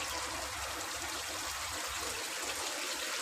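Chicken shorba broth made with turmeric and black pepper is poured from a glass, a continuous close trickling, gushing stream of liquid lasting a few seconds, with no voices.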